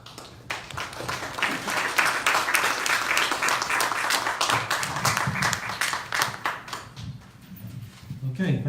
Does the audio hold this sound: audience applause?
yes